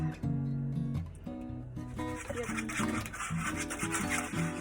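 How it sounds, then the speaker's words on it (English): Eggs and unsweetened almond milk whisked together in a bowl for a spinach quiche, heard as a steady, rhythmic scraping swish under louder background music. "in another bowl, we are going to whisk together our eggs"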